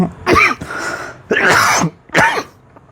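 Three harsh coughs in quick succession, close and fairly loud, with brief pauses between them.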